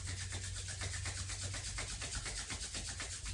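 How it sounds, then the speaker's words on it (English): Hands rub briskly together during a gratitude yoga session, a soft, rapid, rhythmic swishing friction at low level, steady for a few seconds with no talking. "rubbing the hands together, get them nice and warm"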